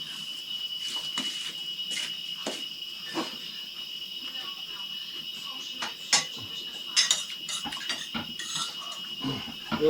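A metal cooking pot clinks and scrapes as it is handled outdoors near a river, with sharp irregular metallic knocks over a steady chorus of chirping crickets.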